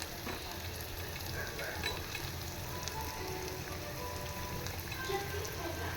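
Sliced onion fries in a pan until soft, without turmeric, for a simple cowpea-bean vegetable dish. It makes a steady, close, rain-like sizzle with faint stirring clicks throughout.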